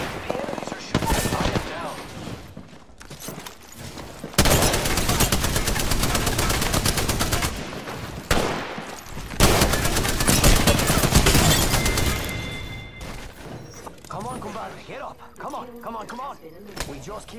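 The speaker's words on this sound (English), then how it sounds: "The enemies are shooting." Enemy gunfire in Apex Legends: long loud bursts of rapid automatic fire, broken by short gaps and a few single reports, with a player's voice heard talking over the shooting.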